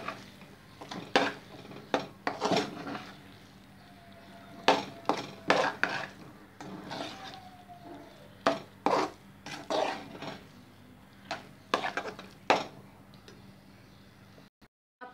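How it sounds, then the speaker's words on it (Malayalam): A utensil stirs thick orappam mixture in a pan continuously, producing a quiet, irregular series of close clinks and scrapes against the metal, with soft pauses between strokes. "ഇത് നല്ലപോലെ കണ്ടിന്യൂസ് ഇങ്ങനെ ഇളക്കി കൊടുക്കുക."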